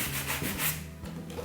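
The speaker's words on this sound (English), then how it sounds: "it's just a case of rubbing where you feel you want the timber to shine through" Sandpaper rubs along the edges of a chalk-painted wooden side table to bring the timber through. Quiet, close scratchy strokes repeat in a short run.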